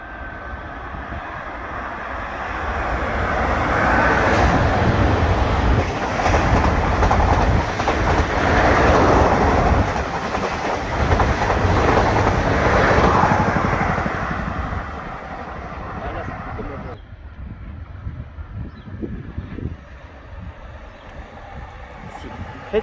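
A train passes fast through Houilles-Carrières-sur-Seine station, swelling into a loud sustained roar with rattling wheels and clatter, then fading away. People talk nearby as it goes by.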